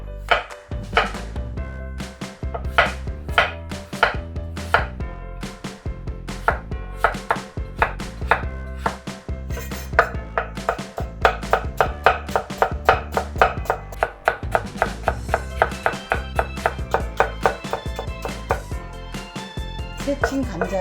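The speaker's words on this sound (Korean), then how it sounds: "그래서 얇게 채를 쳐주겠습니다." A knife chops four potatoes into thin julienne strips on a cutting board, a long run of sharp, rapid, steady knocks that speed into a dense rhythm, close and clear with no talking.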